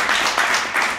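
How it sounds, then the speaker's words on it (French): Audience applause for conductor Gaby Steger, who leads the pit orchestra at a staging of the operetta Les mousquetaires au couvent: a brief, dense burst of clapping that stays steady and fairly loud throughout. "On peut applaudir monsieur Gaby Steger."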